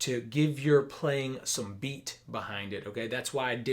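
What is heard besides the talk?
No distinct noise like a dog, phone or traffic.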